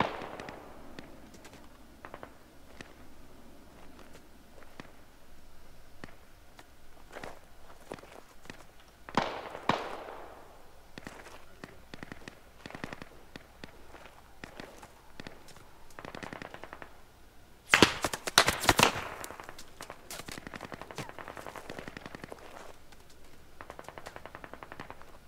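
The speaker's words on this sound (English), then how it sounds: "We're taking random fire up here." Faint, distant gunfire crackles in scattered pops and short bursts within a military game, Squad Ops, with a louder volley in the latter half and footsteps in the background.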